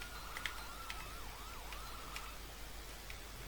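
Police siren on a modded patrol vehicle in GTA V with the LSPDFR mod, a wailing tone sweeping up and down in steady cycles over a constant engine and road hum, with a few sharp blips, no talk.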